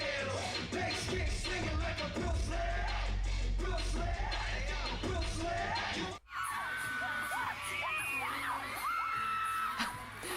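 Crowd of fans screaming and cheering loudly and continuously at a K-pop event for NCT, a dense wall of high shrieks and yells with a brief cut midway before the screaming resumes.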